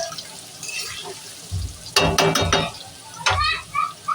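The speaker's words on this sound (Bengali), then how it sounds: "নিয়ে ইঁচড়টা ভেজে নেব।" Raw jackfruit frying in hot oil in a wok, a soft bubbling sizzle broken by loud scraping stirs and clatters against the metal, close by, with a voice speaking briefly.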